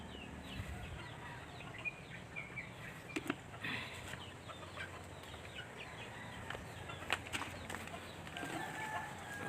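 Chickens cluck and squawk steadily at feeding time in a rural yard, a dense, continuous background of fowl sounds with no talking.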